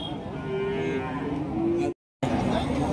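A cow at a cattle market lets out a loud, close, drawn-out moo. Crowd noise runs underneath, the call breaks off briefly in a short gap, then the sound picks up again.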